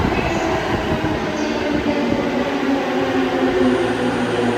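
A Tokyo Metro train rumbles and rolls past close by at a station, a steady loud roar of wheels and carriages with a faint high whine.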